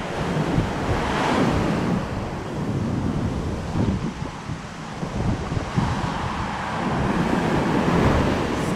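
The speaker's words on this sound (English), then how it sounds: "The wind is still gusting." Wind gusting and surf breaking on a Caribbean beach at Akumal, Mexico after a tropical storm: a loud, continuous roar of waves with buffeting wind noise on the microphone, swelling and easing in gusts, no voices.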